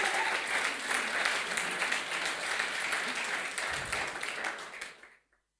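A crowd claps and cheers loudly and steadily for several seconds, then the applause quickly fades to silence.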